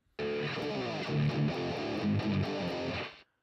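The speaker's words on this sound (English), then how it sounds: "Let's try it with the distortion." Distorted electric guitar through a GarageBand amp simulator with a Tube Screamer, a few heavily saturated chords ringing loud and buzzy, starting abruptly and cutting off cleanly, with no talking.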